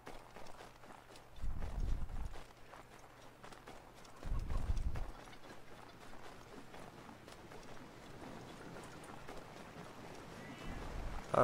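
Hollow horse hoof clip-clops in Assassin's Creed III come in two short bursts over a steady low game hum, with a quieter third burst at the end.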